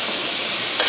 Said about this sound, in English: we're waiting on it to finish sauteing